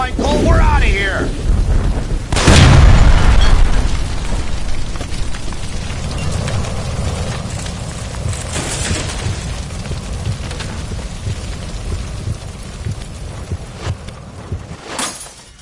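A gas line blows up in LA Noire after being shot, a deep booming blast that bursts loud early on, then decays into a long rumbling, crackling aftermath with scattered pops and debris.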